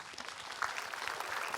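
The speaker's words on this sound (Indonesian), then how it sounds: "Tepuk tangan Bu" A studio audience at an Islamic television talk show claps steadily in a dense, even wash of applause that runs throughout without pause.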